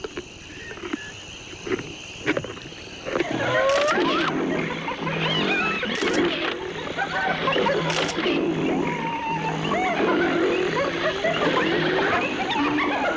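Wild hyenas in Africa chase a lioness, rising into a loud, dense chorus of excited whooping, cackling and squealing calls that carries on without pause after a few sharp thumps at the start.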